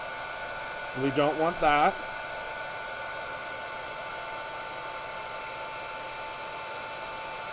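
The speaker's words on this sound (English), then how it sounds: "do not bring your heat gun to your project until it is warmed up, because you can scorch your embossing powder" A heat gun warming up before embossing powder is applied on a spring card gives a steady, even whirring hiss throughout, with a brief spoken phrase near the start.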